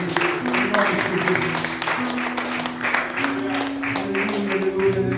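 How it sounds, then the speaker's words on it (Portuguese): A church congregation at an evening worship service claps together in sustained, dense applause, with voices and a held musical tone underneath. "Fica uma salva de palmas ao Senhor."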